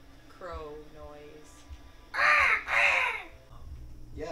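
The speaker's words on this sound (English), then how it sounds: "Why did an owl make a crow noise?" Two loud, harsh crow caws ring out back to back in the horror game Until Dawn, each a rasping burst, preceded by fainter bird calls and a brief voice in the background.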